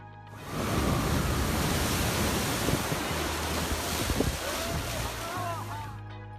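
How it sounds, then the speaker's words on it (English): Huge ocean waves rolling toward a shore, a broad roaring wash of surf and wind that swells in and stays loud and continuous; a voice speaks over it. "Huge water walls rolling toward the shore demand respect and caution"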